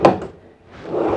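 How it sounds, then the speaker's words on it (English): A drawer in the kitchen of a 2011 Tiffin Phaeton 42QBH motorhome slides on its runners, a quick sharp knock followed by a brief rolling glide, close and clear with no talking. "Drawers come out a ton."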